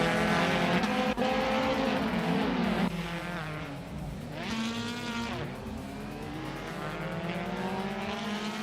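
Race cars in a racing video game, engines revving loud and close with rising and falling pitch as gears shift and cars pass, a near-constant roar.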